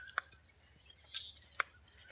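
Birds chirp outdoors in a few sparse, short chirps spread apart, quiet over a low, steady background hum.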